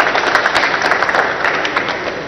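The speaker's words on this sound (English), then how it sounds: "Yes, round of applause," Audience applause at a startup conference innovation session in Mumbai: steady, dense clapping from a crowd, sustained evenly and fairly loud throughout with no talk over it.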